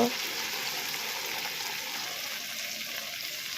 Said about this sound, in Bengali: এখন মশলাগুলো কষিয়ে নেব বন্ধুরা দেখতে থাকো মশলাগুলো তেলে দেওয়া হয়ে গেল